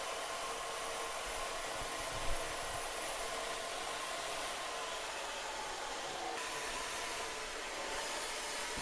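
A drill-mounted red abrasive brush strips an aluminium part, giving a steady, close, hissing whir that holds unbroken and even for the whole stretch.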